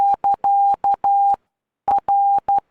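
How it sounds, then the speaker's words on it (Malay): Morse code plays as a steady single-pitch beeping tone in a TeamSpeak 3 channel, loud and clean, with short and long tones in groups, a brief pause, then more dits and dahs. "di sini kita ada untuk belajar Morse code"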